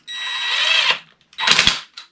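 Pneumatic impact wrench driving a bolt home on a front suspension fork from a Honda NSR 50 being fitted to a WSK 125 motorcycle, set to its lowest power: two short, loud whirring bursts separated by a brief pause.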